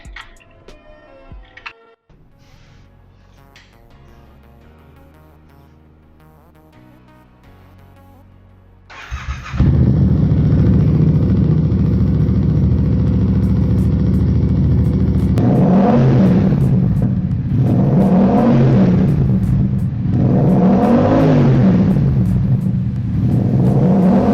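A Yamaha MT-07 motorcycle is cranked and fires up after a coolant change, settling into a loud, close idle before the engine is revved in several rising and falling bursts.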